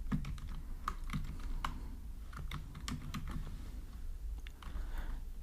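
Fingers type steadily on a computer keyboard while code is entered, producing close, crisp key clicks in irregular bursts over a low background hum.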